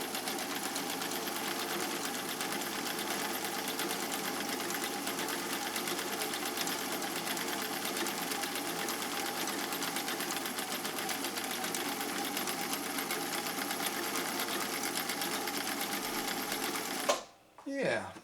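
A sewing machine stitches continuously in a fast, even, rattling hum for a long stretch, then stops abruptly near the end.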